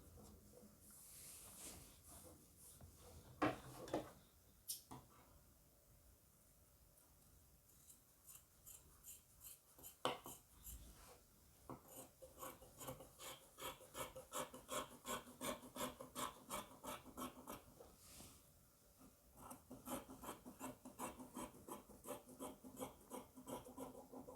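Scissors cut through the side seam area of kimono top fabric, giving faint, close snipping and rasping strokes, sparse at first, then a steady run of quick rhythmic cuts with brief pauses.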